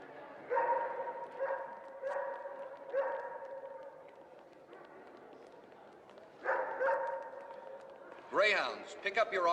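Dogs bark in short repeated bursts at a dog show, echoing in a large hall. Quieter gaps fall between the barks, and a higher yelp comes near the end under faint voices.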